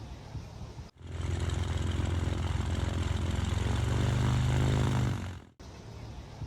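A parked Beale Air Force Base T-38 Talon, a twin-jet two-seat supersonic trainer, produces a loud, steady turbine roar with a low rumble. The roar swells slightly, then cuts off abruptly after about five seconds.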